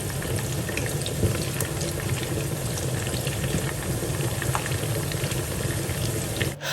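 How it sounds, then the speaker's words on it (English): Red onions frying in oil for a Ghanaian tubaani dish, a steady, close bubbling sizzle with crackling pops that runs evenly throughout without voices. "I'm going ahead to infuse my oil with this beautiful red onions"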